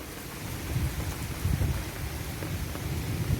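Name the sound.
continuous thunder during a severe thunderstorm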